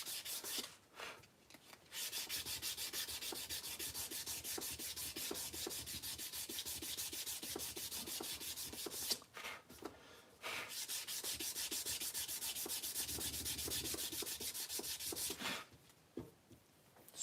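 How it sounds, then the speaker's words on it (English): Steady hand sanding of a custom knife blade, a continuous scratchy abrasive rasp of back-and-forth strokes, close and loud, with brief pauses near the start, middle and end. "So time consuming, eh? This hand sanding stuff."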